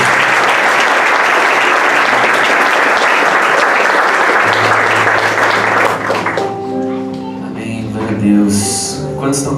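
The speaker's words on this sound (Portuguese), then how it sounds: "Vamos dar uma salva de palmas para o nosso Deus." Congregation applauding during a church service at a theological week event, a loud, dense wash of clapping for about six seconds that gives way to a voice and sustained music tones.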